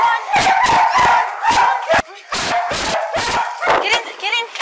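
A dog barks repeatedly at close range in sharp, rhythmic bursts while police officers rescue animals from an SPCA shelter as a wildfire approaches, with other voices and movement mixed in.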